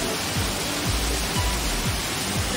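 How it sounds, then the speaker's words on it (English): Waterfall at Old Stone Fort State Park, a steady broad roar of falling water close by with a faint rhythmic low thudding, no talking over it. "There's some more falls over there."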